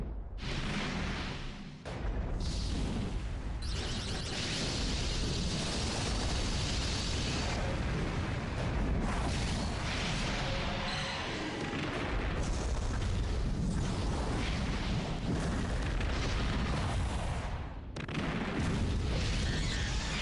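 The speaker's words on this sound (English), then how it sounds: "Let me show you how to use those missiles." Missiles firing and exploding in a video game, with dense rumbling blasts and booms that run almost without a break. They are loud and continuous, with a few short dips between volleys and no talking.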